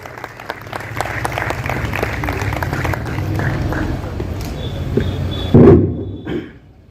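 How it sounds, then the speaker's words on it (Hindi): An audience at a Hindu celebration marking Chhatrapati Shivaji Maharaj's 350th coronation anniversary applauds steadily for several seconds, a dense crowd clapping that swells near the end and then fades out. "जोरदार तालियां बजाते रह रहे हैं साथियों।"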